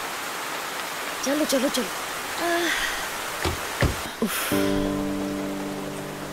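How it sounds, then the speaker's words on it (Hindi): Steady rain hisses in the background while a voice calls out urgently, followed by a sustained tonal hum. "अरे बारिश आ गई, जल्दी चल।"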